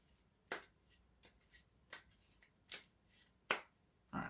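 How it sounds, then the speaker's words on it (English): Playing cards from a Stilicho: Last of the Romans tabletop game are side-shuffled, giving a run of about ten crisp riffling bursts, close and fairly quiet, with no talking. "Side shuffle in action."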